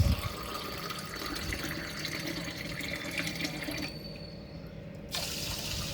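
Water running and splashing from a tap into rice being washed and filled for a pressure cooker, a steady continuous pour with a brief quieter pause near the end before the flow resumes.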